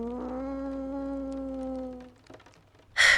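A cat lets out a long, drawn-out, wavering meow that is close and fairly loud, followed by quiet rustling and a brief sharp noise at the end.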